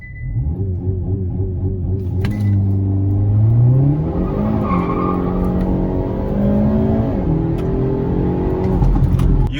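A Hyundai Elantra N launching with launch control and traction control off, engine revving hard and climbing through rising pitch sweeps with audible gear shifts, loud and close throughout.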